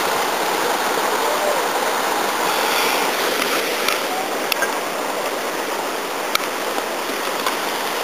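Wilson Falls waterfall rushing below in steep mountain terrain, a loud, constant broadband roar of falling water with a few faint clicks over it.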